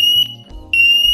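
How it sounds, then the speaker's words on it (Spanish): A home smoke and carbon monoxide detector gives a shrill, steady electronic alarm tone after its test button is pressed. The tone sounds in two loud bursts, cutting out briefly in between, with no talking. "Así que como veis, pulsamos y suena la alarma."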